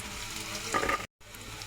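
Carrots sizzle in a pan with fried garlic for a shrimp chicken biryani, a steady close frying hiss with a brief louder burst of stirring before a short cut to silence.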